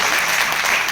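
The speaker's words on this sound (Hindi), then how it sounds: "एक बार ताली होगी" Dense, steady clapping from an audience at a network-marketing business training session in Agra, sustained evenly for the whole second.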